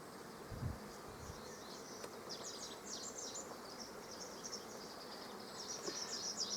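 Honeybees buzz steadily at an open beehive during a beekeeper's inspection, a dense continuous hum close to the microphone with a few brief low thumps near the start.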